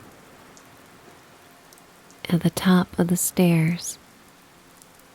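Gentle rain falls steadily on a seaside railing with flaking black paint, a low constant patter heard alone at first and then beneath a brief soft-spoken voice.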